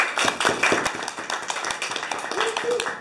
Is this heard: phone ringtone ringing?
no